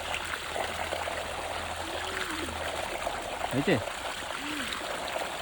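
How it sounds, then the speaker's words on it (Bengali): Water runs and splashes from a pipe as someone drinks from it, a steady trickling stream with a few brief gurgles, and a voice speaks briefly over it. "একদিন পাইপে জল খাচ্ছে"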